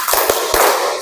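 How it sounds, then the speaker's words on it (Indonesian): Schoolchildren in an Indonesian classroom clap the 'tepuk semangat' pattern together, a few sharp, loud group claps close by followed by a burst of noisy clapping and chatter. "Kita tepuk semangat dulu"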